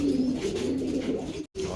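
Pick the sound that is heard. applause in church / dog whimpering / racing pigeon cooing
racing pigeon cooing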